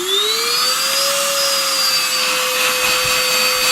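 A Novete VT-DH005 handheld vacuum cleaner runs close by with a loud, steady high-pitched whine that holds without pauses throughout.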